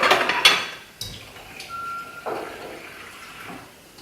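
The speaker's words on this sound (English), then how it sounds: "we'll add 1 cup of water." Water pours into a hot pan of semi-toasted curry spices for a masala chicken curry, a burst of hissing sizzle and splashing that then settles into a quieter simmering bubble.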